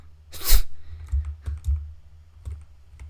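Computer keyboard typing, scattered key clacks in short irregular bursts with one louder thump near the start, close and dry.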